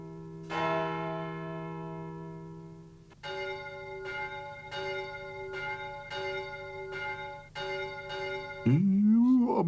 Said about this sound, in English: He was most fond of the bells.